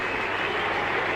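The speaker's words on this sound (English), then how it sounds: "Rapturous applause around the MCG." Rapturous crowd applause sweeps around the MCG during an AFL match, Geelong v Collingwood, as a player takes a decisive mark: a dense, steady roar of distant clapping and cheering.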